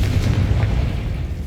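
A Confringo spell blast in Hogwarts Legacy, a loud, deep, rumbling explosion that fills the short moment with a heavy low boom and fiery crackle.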